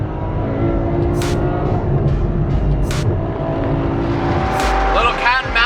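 Loud engines of a Porsche 918 Spyder and a Ferrari 812 Superfast roar and rev continuously, close by, with whooshing passes as the cars race on a canyon road.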